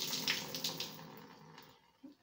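Soaking water poured out of a jar of alfalfa sprouts through a cloth cover, a faint, brief splashing trickle that tapers off, with a small knock at the end.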